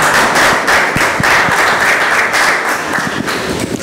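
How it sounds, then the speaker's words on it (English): Loud, dense applause from an audience at a Jägermeister presentation, a thick sustained roar of clapping that swells and dips slightly throughout. "Big round of applause for Luis and Luis"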